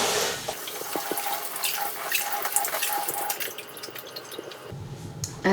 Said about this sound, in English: So I'm just going to put them in the strainer and then rinse them with cold water.